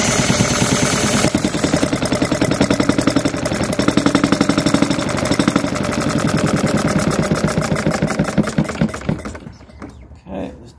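A true-injected model diesel engine runs on its second start, a rapid steady chugging beat at close range that holds for about nine seconds, then sputters and stops.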